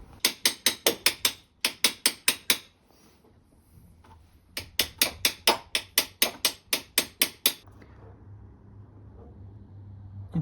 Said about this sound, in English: And now just kind of hammer it in place.